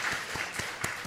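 Church congregation clapping during a Sunday worship service, a brief, moderately quiet burst of scattered hand claps in a large room.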